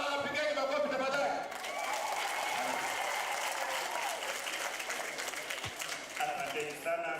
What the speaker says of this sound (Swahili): Watu wanapigeni makofi tafadhali